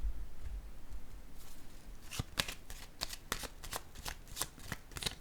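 Tarot cards are shuffled and handled close up in a quiet room, with a run of crisp riffling bursts and flicks in quick, uneven rhythm, no voice over them.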